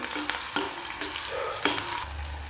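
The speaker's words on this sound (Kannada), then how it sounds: "ಸಣ್ಣಗೆ ಉಳ್ಳಾಗಡ್ಡಿ ಹೆಂಚಿಟ್ಕೊಂಡೇನಿ, ಅವನಿಲ್ಲೇ ಹಾಕೊಳತ್ತೀನಿ. ಒಂದು ಸ್ವಲ್ಪ ಹೊತ್ತು ಫ್ರೈ ಮಾಡ್ಬೇಕು ನೋಡ್ರಿ ಇದನ್ನು." Finely chopped onions fry in hot oil in a pan with a steady close sizzle, punctuated by several sharp spatula scrapes and taps as they are stirred; no one speaks.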